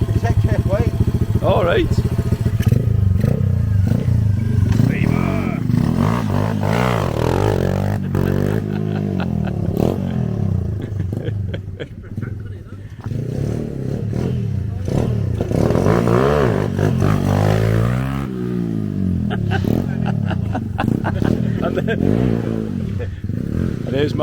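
A Honda Monkey small motorcycle revs hard and loud, close by, its engine rising and falling as the rider tries to lift the front wheel at an outdoor bike meet, with people talking over it.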